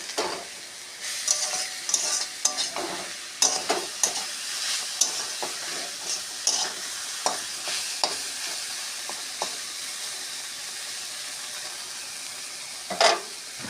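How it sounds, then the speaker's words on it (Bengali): Water spinach (kolmi shak) is stirred as it fries in a pan, giving a steady sizzle broken by repeated clattering scrapes of the spatula, with no talking. "ঢাকনাটা খুলে আবার শাকটা একটু আমি নেড়ে ছেড়ে দিচ্ছি।"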